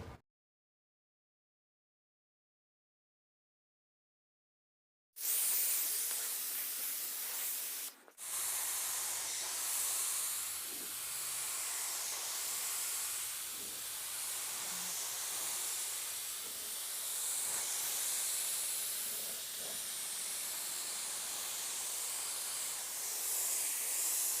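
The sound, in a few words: spray gun spraying sealer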